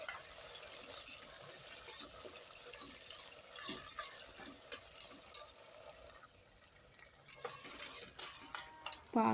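Tomatoes and potatoes are stir-fried in oil, with a soft, low sizzle under intermittent scraping and stirring knocks from a utensil, fairly quiet and close, with no speech.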